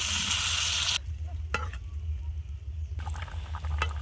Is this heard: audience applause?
no